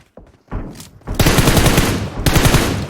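Gunfire in the PUBG Mobile video game, a sharp shot followed by loud, rapid bursts of automatic fire with short gaps, close and dominant, with no talk.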